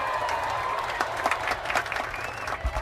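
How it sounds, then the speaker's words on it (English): A crowd applauds with loud, steady clapping that rises in sharper bursts, close and continuous throughout. "Do you know you do the clapping now?"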